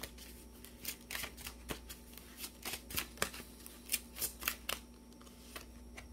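Tarot cards are shuffled in a string of crisp, rapid riffles and flicks, close by and repeating irregularly for several seconds.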